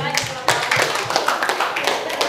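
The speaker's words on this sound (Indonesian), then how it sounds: "silakan beri tepuk tangan" Applause from a seated group at an Aceh oral-tradition workshop, a dense, steady patter of many hands clapping close by for a couple of seconds, with a voice faintly underneath.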